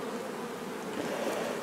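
Dense, steady buzzing of a large bee colony in a basketball hoop being removed, a continuous close hum with no voices.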